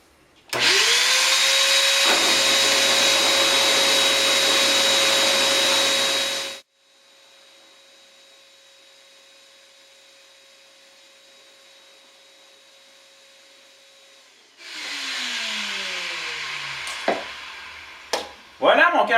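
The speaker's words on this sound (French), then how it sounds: "Voilà, mon carrelet est percé." Power drill boring a hole through a wooden pen blank, a loud steady whine for several seconds, a pause with faint hum, then another burst of drilling with shifting pitch and clunks at the end.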